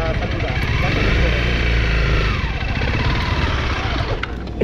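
A weak motorcycle engine runs loud and steady up close, its rough mid-range drone holding throughout with no pauses.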